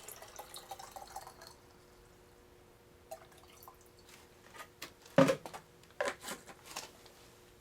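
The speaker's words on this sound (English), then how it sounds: "Let's fill this with water and see if it leaks." Water is poured into the plumbing of a 1kW LED's water cooling system, built with parts from a 2.5 watt argon laser: quiet trickling and drips, then a few louder splashy bursts and clicks near the end.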